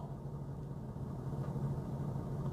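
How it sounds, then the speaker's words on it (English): A Jaguar XK engine idles with a faint, steady low hum, even and unbroken throughout. "I've started the engine now, the engine's running"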